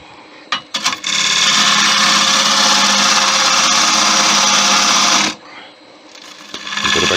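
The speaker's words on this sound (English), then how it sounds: "I'm going to go to the longer handle ball gouge" A wood lathe whirs steadily while a long-handled ball gouge cuts an Art Deco bowl, a continuous high whine of several seconds that starts and stops abruptly.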